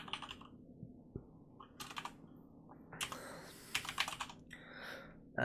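Keys clack on a computer keyboard in short bursts while a word is typed into Photoshop's text tool, close and crisp, with quiet pauses between the flurries.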